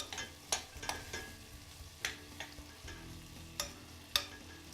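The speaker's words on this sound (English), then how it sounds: "So my onions now are starting to sizzle." Onions soften in a pan with a faint, low sizzle, punctuated by a series of light spoon-on-pan clicks and stirring taps at an uneven rhythm.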